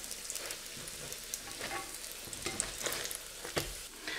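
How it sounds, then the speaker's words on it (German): Breaded vegan giant puffball schnitzel frying in hot fat, giving a steady close sizzle with crackling pops throughout and no voices. "Und dann einfach ins heiße Fett legen."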